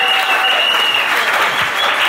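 Church congregation applauding, a dense steady wash of clapping with a sustained tone ringing through it, continuous and fairly loud.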